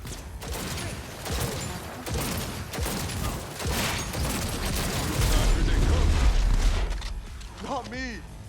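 Enemies shooting guns in a Cyberpunk 2077 firefight: scattered gunshots and bursts under ongoing talk, with mechanical clicks, a deeper rumble midway, and whooshing effects near the end.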